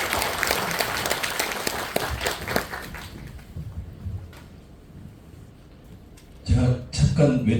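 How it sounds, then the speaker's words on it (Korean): Audience applause at a school admissions information session, dense clapping that fades over several seconds into room noise, followed by a few loud thumps and handling sounds. "큰 박수 받아주시기 바랍니다."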